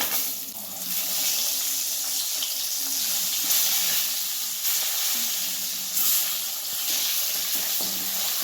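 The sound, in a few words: eggs frying in oil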